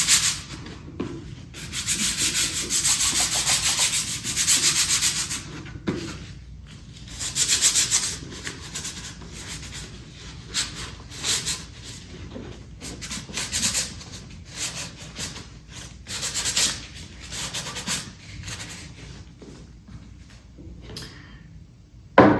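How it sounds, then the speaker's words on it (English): A cloth wiping skin oils off a plastic LED cigar juggling box, repeated close rubbing strokes in uneven bursts with short pauses between them, no talk. "you're not getting your skin oils onto the plastic, which is what I'm basically now wiping off"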